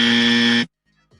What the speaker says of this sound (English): let's give her the dummy buzzer